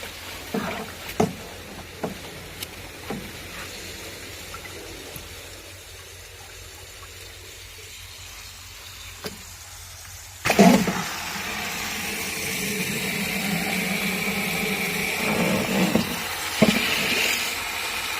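Quiet clicks and faint rustling give way to a sudden steady rush of water gushing and splashing into a drip irrigation barrel, continuing to the end.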